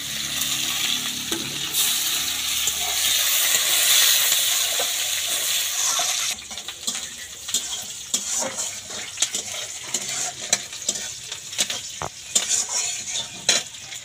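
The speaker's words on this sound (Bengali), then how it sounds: "কড়াইতে দেওয়া তেলটা যখন গরম হয়ে যাবে, তখন অল্প একটু পাঁচফোড়ন আর পেঁয়াজ কুচিটা দিয়ে ভালো করে পেঁয়াজটাকে ভেজে ভেজে নিতে হবে।" Chopped onion and panch phoron fry in hot oil in a kadai. A continuous sizzle gives way to busier stirring and scraping with sharp crackles, all close up and without talk.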